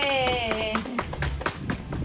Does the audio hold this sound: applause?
yes